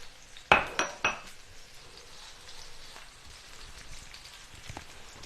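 Minced fresh garlic and ginger tossed into a pan, giving a quick clatter of three sharp hits close up, then a soft steady sizzle with faint background noise.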